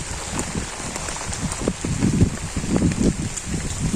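Steady rain falls on a wetland village on a rainy day, a dense, even hiss of drops hitting surfaces that swells slightly in the second half, with no voices.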